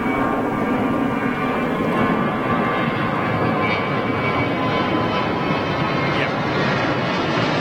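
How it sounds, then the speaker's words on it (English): Steady, loud broadband roar of an ATR turboprop airliner taxiing toward the holding point at London Gatwick, constant throughout with a faint hum and a voice murmuring underneath. "ATR that's taxiing to the holding point"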